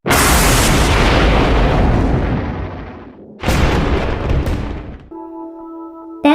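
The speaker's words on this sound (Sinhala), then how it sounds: "පිටත මා සත්‍යයෙන් අකුණු ගහනවා" Lightning cracks into a loud thunder boom during a night of heavy rain. The roar slowly fades, then a second sharp crash rolls out and dies away.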